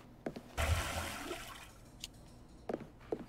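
Water being emptied from a pot of cooked spaghetti in the Chef Life restaurant simulator game: a brief rushing, gurgling pour that swells and then tapers off, with a few faint clicks afterward.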